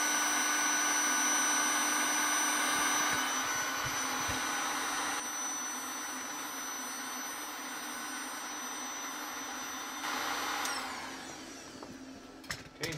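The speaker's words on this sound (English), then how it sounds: "we're going to heat it up to around 70 degrees C with the heat gun" A heat gun blows steadily to warm a WSBS 8518-35 battery shunt resistor to about 70 degrees C, a loud continuous whooshing whine that lowers slightly partway through before fading out.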